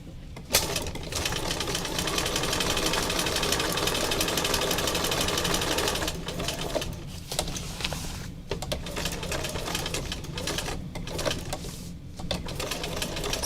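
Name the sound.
sewing machine stitching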